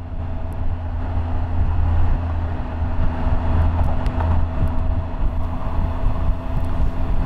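Triumph Tiger 1200 XCA motorcycle cruising at about 60 mph, a steady low engine drone blended with heavy wind rush that holds at an even, loud level throughout with no voices.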